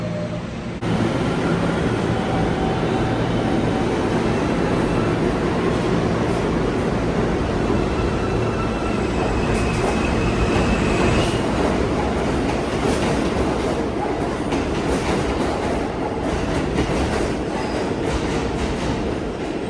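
New York A train rolling into a station, a loud continuous rumble of wheels on rail with rhythmic clatter and faint high squeals, steady throughout with no talk.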